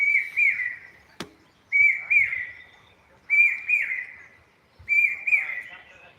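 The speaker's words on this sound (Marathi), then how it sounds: "चातक पक्षाचा आवाज आपण ऐकू शकता" A jacobin cuckoo gives a clear whistled call repeated four times at steady intervals, each a rising then falling phrase, heard alone with one sharp click between.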